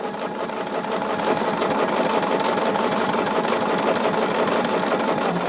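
A sewing machine runs steadily for several seconds, stitching binding onto a quilt, its motor whirring at an even, continuous level with no pauses or talk.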